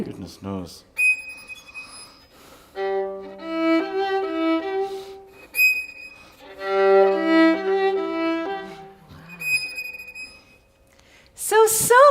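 A violin imitates potato pancakes sizzling on a stove, with bowed, whistle-like sustained notes in a few phrases; a voice speaks briefly at the start and again at the end.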